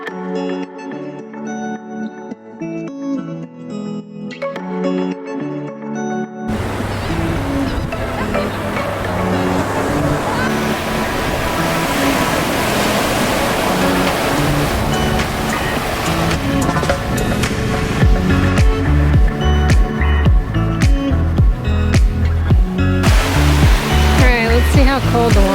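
Steady broadband wash of cold ocean surf at a travel spot, continuous and fairly loud throughout, with a brief musical passage at the start before the water noise takes over.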